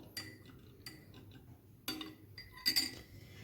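A spoon stirs honey into kahwa, a spiced tea, with a few faint, sparse metallic clinks against the cup over quiet background.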